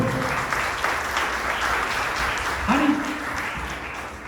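A church congregation applauds in a steady, dense wash of clapping that holds for several seconds, with faint voices and a tonal hum mixed underneath.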